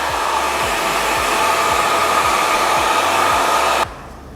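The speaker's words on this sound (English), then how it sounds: "I'm going to use my blow dryer." A hair blow dryer runs steadily while drying paint on a vase coated with a textured baking-soda mix, a loud continuous whirring hiss with a faint rhythmic pulse, cutting off abruptly near the end.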